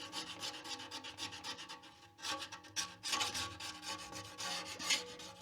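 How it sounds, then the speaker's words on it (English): Metal oven scraper, the flat-top kind, scraping residue off a wood stove, giving repeated rasping strokes up close with brief pauses and no talking. "It's like an oven scraper, like you would use on a flat top oven."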